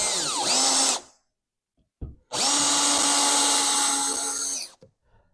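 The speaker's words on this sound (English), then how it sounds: "So I drilled these holes out a little bit bigger and did a countersink" Power drill bores and countersinks screw holes in an old wooden ladder stool: two loud, close whining bursts of about one and two and a half seconds, with a short pause and a small knock between them.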